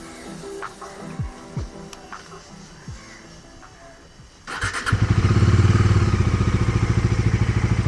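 A Bajaj Dominar 250 motorcycle with a throttle issue sits quietly with faint clicks, then its engine cranks, catches and settles into a loud, steady, close-up idle.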